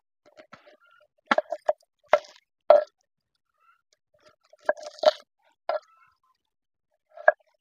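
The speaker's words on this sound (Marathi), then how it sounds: "आता एक कांदा कापून घेते." An onion being cut with a knife in a home kitchen, with a handful of sparse, close, crisp chops and taps separated by short pauses, and no talking.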